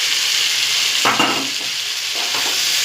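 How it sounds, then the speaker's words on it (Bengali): Jackfruit tipped into a pan of sizzling spices and sugar, with a steady loud frying hiss and a sharper burst as it lands, followed by stirring scrapes, close and without talk. "চিনি দিয়ে তারপর আমি কাঁঠালটা ঢেলে দেবো।"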